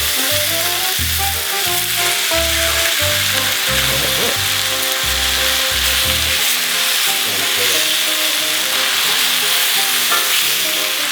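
Shrimp and vegetables for Kung Pao shrimp fry together in a pan, a loud continuous sizzle running beneath background music throughout.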